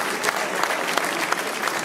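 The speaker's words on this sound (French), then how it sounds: "on peut les applaudir très fort" A crowd at a French association event applauds loudly, with dense continuous clapping throughout.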